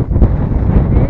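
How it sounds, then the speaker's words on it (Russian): Strong wind gusting across an outdoor yard, a loud continuous roar buffeting the microphone for about a second with no break. "Ветер поднялся ужасно."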